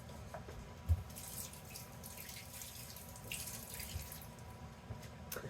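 Tap water runs into a kitchen sink as corn is washed under it, a steady close splashing hiss with a few small knocks and clunks, no talking.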